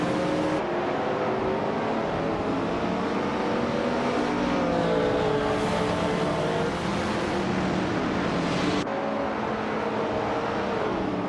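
Race cars roar through a race, engines revving and sweeping past in overlapping waves, loud and continuous with pitch rising and falling as they accelerate.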